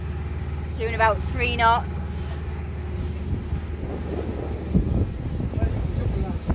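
A sailboat motor sailing under engine power in light wind moves at a few knots, with a steady low engine drone and wind rumble running throughout while people talk over it.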